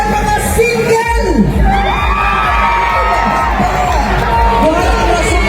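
A crowd at a prayer rally in Davao cheers and shouts loudly, with whoops and raised voices mixed with clapping, a loud and continuous din with speech running through it.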